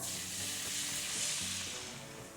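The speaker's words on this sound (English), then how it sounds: "Then dump your 8 ounces of the cherrycoke" Cherry cola poured into a hot pan where ham steaks were browned, giving a broad steady sizzle that swells and eases slightly over a couple of seconds, fairly soft and close, with no talking.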